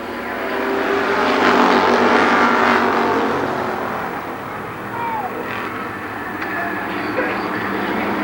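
Race cars roaring past on an oval at Columbus Motor Speedway, a loud sustained engine wash that swells and fades under a public-address announcer's commentary.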